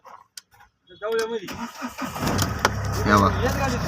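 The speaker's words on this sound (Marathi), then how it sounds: "आता बघा आपण शेल मारतोय" A Mahindra Scorpio engine cranks briefly, catches, and settles into a steady idle, with a voice speaking over it.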